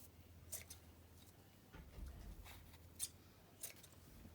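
Scissors snip through ribbon ends for an Easter headband bow, a few faint, quiet cuts spaced apart in a hushed room with no talking.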